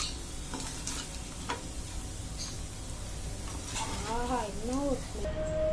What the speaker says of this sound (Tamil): அந்த பேனுக்குள்ளே எண்ணெய் கொஞ்சம் ஊற்றிட்டு பன்னீர் கட் பண்ணி வச்சுருந்தா பன்னீரை வந்து உள்ளே போட்டுக்கலாம். நல்லா கொஞ்சம் கலக்கி விட்டுக்கலாம்.